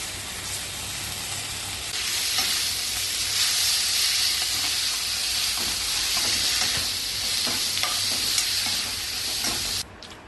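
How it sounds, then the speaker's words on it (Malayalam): Chopped gongura (sorrel) leaves and spice powders sauté in a hot pan with a loud, continuous sizzling hiss and intermittent stirring scrapes, stopping abruptly at the end. "ഇതിലേക്ക് ഗോങ്കുര ഇല മുറിച്ച് ചേർത്ത് വഴറ്റാം"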